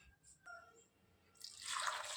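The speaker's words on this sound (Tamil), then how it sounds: "கொஞ்சம் தண்ணியை ஊற்றிக்குவோம்" Water poured from a vessel into a pressure cooker holding tomatoes, turmeric and vegetables for a brinjal and potato side dish, a short splashing pour swelling in the final second after a few faint drips.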